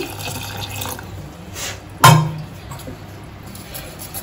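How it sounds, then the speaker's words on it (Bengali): A small splash of water is poured into a bowl of soaked semolina pancake batter, a single short liquid gush amid otherwise quiet kitchen sounds. "আর একটু সামান্য আমি জল দিচ্ছি"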